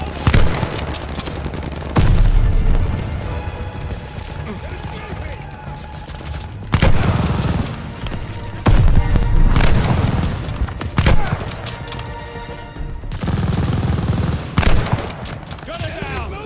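Machine gun fire in a Call of Duty Vanguard battle against a half-track comes in loud, close bursts separated by brief lulls. Shouted voices and explosive booms are mixed in throughout.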